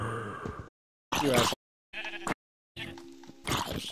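A Minecraft sheep bleats several times in short bursts separated by silent gaps, near and fairly loud, with a voice speaking among the bleats.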